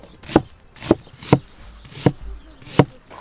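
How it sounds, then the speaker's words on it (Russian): A knife slicing large onions into half-rings on a cutting board, five distinct cuts at a steady, unhurried pace, close and crisp with quiet gaps between. "Берем 2 больших луковицы и нарезаем их полукольцами."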